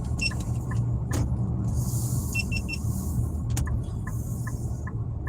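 Car interior on the way to a DoorDash drop-off: a steady low engine and road rumble throughout, with faint high beeps and chirps scattered over it, no talking.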